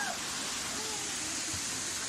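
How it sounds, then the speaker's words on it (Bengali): Bamni Falls waterfall in Purulia gives a faint, steady broadband rush of falling water, continuous and distant-sounding, with no clear voices over it. "এই সেই বামনি ফলস।"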